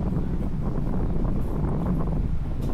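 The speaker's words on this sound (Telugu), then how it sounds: "విండ్ అయితే చాలా ఉంది గాలి అయితే చాలా ఉంది" Strong wind at Ratangad fort roars and buffets a nearby microphone in a steady, loud, low rumble that goes on without a break, with no voices over it.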